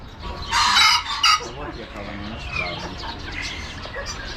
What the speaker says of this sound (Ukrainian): Курка карликова шовковиста.